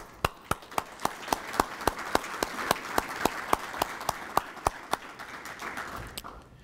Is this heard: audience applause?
yes